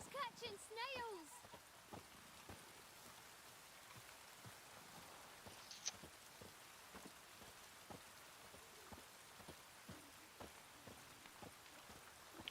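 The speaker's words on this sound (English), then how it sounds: "What are you doing standing out in the rain" Steady rain falls in The Witcher 3, a continuous patter with scattered sharp drops, joined by rhythmic clip-clop hoofbeats and brief bird-like chirps early on, all fairly quiet.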